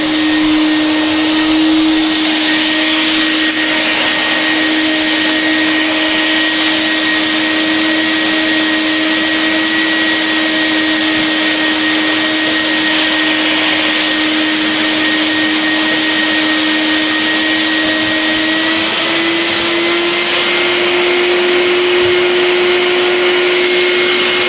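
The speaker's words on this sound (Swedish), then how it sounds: "A little bit more vacuum." A vacuum cleaner runs loud and close without a break, a steady whining drone with a bright hum that shifts slightly in pitch near the end.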